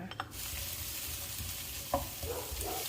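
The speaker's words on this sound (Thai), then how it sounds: "ไว้นำพริกกระเทียมลงไปเลยค่ะ เราจะผัดเขาให้หอมก่อนนะคะ" Chili and garlic stir-frying in hot oil for a Thai stir-fry of cha-om with glass noodles, giving a steady close sizzle with a few brief clinks and scrapes of a utensil stirring the pan.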